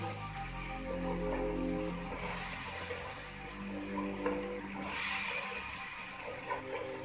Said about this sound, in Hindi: इसमें हम थोड़ा थोड़ा ये पानी डालेंगे और मसाले को थोड़ा सा भूनेंगे।